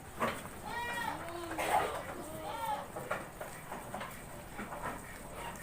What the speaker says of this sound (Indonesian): Ini kambing-kambing baru yang dapat belanjaan dari pasar ini.